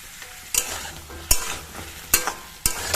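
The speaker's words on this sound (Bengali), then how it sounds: "জিরে আর শুকনো লঙ্কা ফোড়ন দিয়েছি দিয়ে আলু পটলগুলো দিয়ে দিয়েছি" Potato and pointed gourd pieces frying in oil with a cumin and dried chilli tempering in a pan, with a steady low sizzle broken by four sharp spatula scrapes and stirs, close by.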